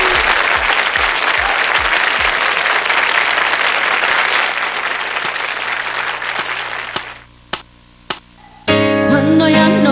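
Steady applause from an audience for a girl at a fair, dense clapping that fades out, leaving a few isolated claps before music starts.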